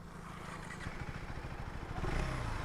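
A KTM Adventure 390 motorcycle engine in rain mode drones at a moderate level, with the revs rising gently toward the end and no voices over it.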